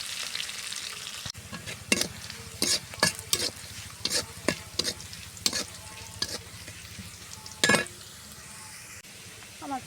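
Onion and garlic fry with salt in a pan before drumstick leaves go in, as a spatula scrapes and clatters in uneven strokes over a constant bubbling sizzle, with one louder knock late on.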